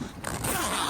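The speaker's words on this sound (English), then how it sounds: "So just unzip this thing" The zipper on a sail cover bag aboard a Santa Cruz 33 sailboat is pulled open in one quick, close, rasping stroke.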